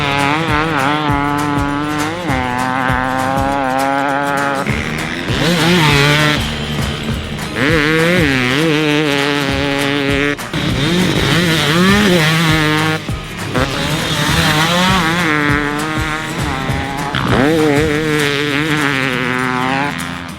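Beta 300RX two-stroke motocross bike ridden hard, its engine revving up and down in loud, rapid bursts with buzzy harmonics, rising and falling through gear changes with no talk.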